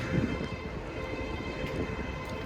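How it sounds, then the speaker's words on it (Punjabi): A passenger train pulls into a station with a low continuous rumble and rolling clatter, heard steadily from nearby on the platform. "ਆ ਲੱਗੀ ਆਪਣੀ ਟ੍ਰੇਨ"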